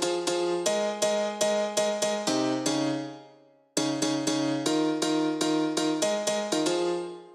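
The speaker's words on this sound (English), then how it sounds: "And the first part is like a Ableton's own grand piano." Grand piano from Ableton's built-in library plays a simple chord progression, repeated chords struck in an even rhythm with two phrases split by a brief decay to near silence, close and clear with no voices.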